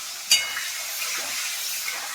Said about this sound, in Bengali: এবার ফুলকপিগুলো ভাজবো। এখানে তেল গরম হয়ে গেছে, আমি একে একে দিয়ে দেবো।